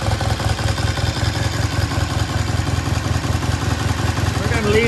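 Vintage British motorcycle engine idling slightly high during a repair and restoration, a close, steady, even thumping putter that holds constant throughout with no revving.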